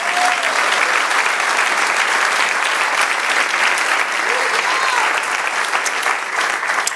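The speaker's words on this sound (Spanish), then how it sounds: "Denle otro aplauso y celebre." Sustained, loud congregational applause fills a Spanish-language church service, a dense steady wash of many hands clapping throughout with no break.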